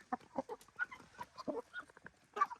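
A rooster among poultry in Namangan, Uzbekistan, giving a rapid run of short, close clucking calls in an uneven rhythm, fairly loud, with no talk over them.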